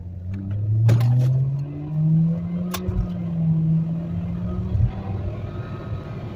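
A car fitted with a cold air intake accelerates after dropping a gear, the engine note climbing in a rising drone that holds, then falls away near the end, with a few sharp clicks along the way.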